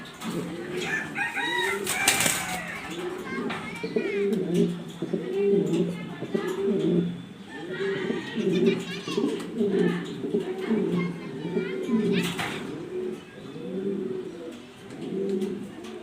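A pair of black Danish pigeons coo repeatedly in a steady, rolling pattern close by, with occasional wing flutters and a voice speaking at times over the birds.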